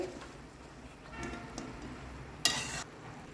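Muthiya dumplings being stirred into undhiyu in a pan over a low flame, giving a soft, steady sizzle with scraping stirs and a brighter clatter near the end, alone without talk.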